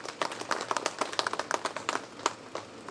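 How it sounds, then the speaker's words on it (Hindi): Scattered audience clapping at the inauguration of a new shelter home and food bank in Bhusar, a thin, uneven patter of individual claps at moderate distance, fairly quiet. "तालियां बजाइए।"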